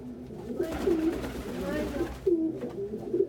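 Soft, low cooing from penned pigeons nearby, a few repeated calls blending with quiet background murmur.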